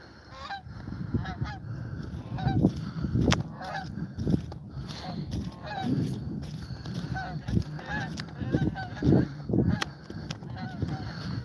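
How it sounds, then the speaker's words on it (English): Geese honk over and over at Graham Lake, Maine, a scattered chorus of calls close by outdoors, with some quiet movement in the background. "Come some geese."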